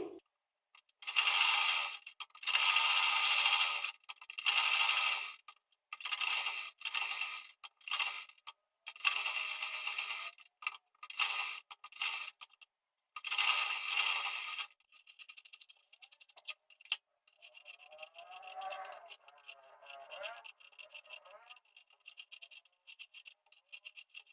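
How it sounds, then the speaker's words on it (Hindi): A sewing machine joins blouse main fabric and lining with long basting stitches, running in repeated close, loud bursts separated by short pauses before quieter, scattered handling noises. No one speaks. "अब हम यहाँ पर सबसे पहले बड़ी बखिया से चारों साइड में मेन फैब्रिक और अस्तर फैब्रिक को जोड़ लेंगे"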